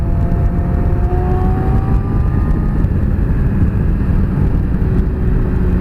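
A 2017 Yamaha R6 sport motorcycle cruises on damp roads, its engine a steady, loud whirring drone with rising and falling whine as the revs shift, wind noise throughout and no speech.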